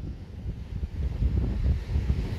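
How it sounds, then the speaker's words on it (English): Steady wind buffeting the microphone with low rumbling gusts, loud and continuous throughout, on the rocky coast at Wolf's Caves, Jersey. "But it's a windy day today."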